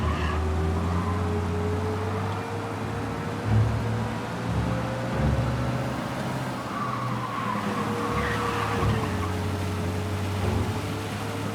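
Car driving in Mafia Definitive Edition, a steady engine hum and road rumble holding for several seconds with a faint tire squeal partway through.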